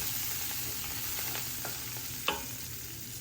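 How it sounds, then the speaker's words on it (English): Ginger, green chili and coriander leaves stirred in a cooking pan, a continuous low sizzle with repeated scraping strokes and one sharp clack of the utensil near the end. "Going to mix it very well."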